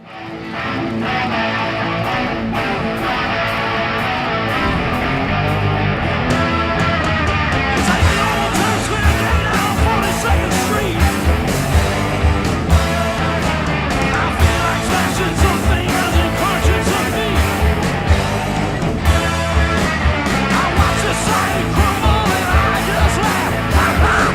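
A proto-punk rock song, dense and loud throughout with screaming distorted guitars, driving drums and raw vocals, no speech over it.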